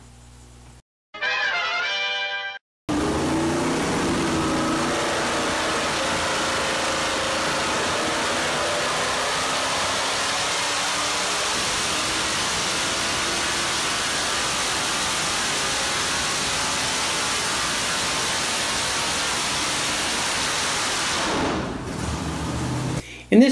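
A 416-cubic-inch stroker LS3 V8 on a dyno, fitted with the factory intake manifold and a 92 mm throttle body, roars loud and steady for about twenty seconds after a brief opening burst, then cuts off.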